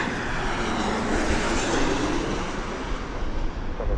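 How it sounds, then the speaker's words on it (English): Southwest Airlines jet approaching to land at Las Vegas airport, a steady, fairly loud engine roar and rumble sustained throughout without talk. "And we currently have a Southwest flight coming in."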